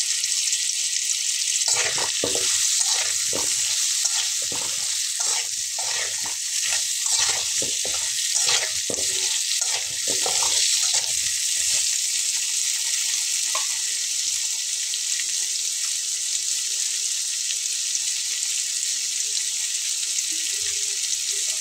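Cinnamon pieces, bay leaves and potato chunks sautéing in oil: a constant, bright sizzle throughout, with a burst of clattering stirring strokes through the first half, then a smoother steady frying hiss.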